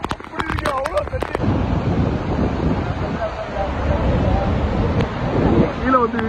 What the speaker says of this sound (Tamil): அந்த அளவுக்கு தண்ணி சாரல் அடிக்குது.